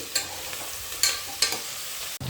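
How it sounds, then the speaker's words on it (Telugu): Curry leaves fry in an oily pot of soya biryani, a steady crackling sizzle with three sharp clinks of a stirring spoon against the pot, followed by a brief drop near the end. "ఇప్పుడు మనం కరివేపాకు వేసుకుందాం కాసేపు మగ్గాలండి ఇవి"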